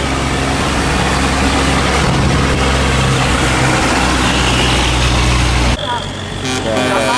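Heavy barge engines thrum loudly on a river in a constant low, dense drone, with someone speaking Vietnamese over the noise near the start and the sound shifting abruptly near the end.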